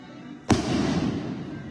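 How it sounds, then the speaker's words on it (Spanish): Fireworks rockets burst at a religious procession for the arrival of Nana Uarhi Maria in Sahuayo, Mexico: one sharp, loud bang followed by a long crackling, rumbling tail outdoors. "Ahí están los cohetes."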